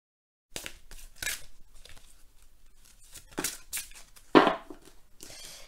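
Tarot cards shuffled by hand, a series of brisk papery riffles and flicks in short bursts separated by pauses, one sharper slap near the end, close and fairly quiet.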